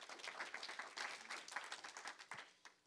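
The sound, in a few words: audience round of applause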